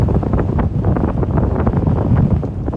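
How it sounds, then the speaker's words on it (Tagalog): Strong wind buffets the microphone in a loud, continuous low roar with gusty fluctuations and no speech. "Sobrang lakas ang hangin."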